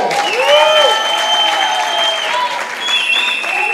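A crowd at a political convention applauds steadily, with sustained clapping and whistles and cheers rising over it, loud and close throughout.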